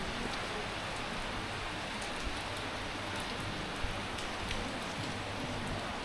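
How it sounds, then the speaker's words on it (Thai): Steady rain falling on a cold misty morning at a mountain clifftop, a constant dense hiss with scattered drop ticks, no voices. "ฝนตก"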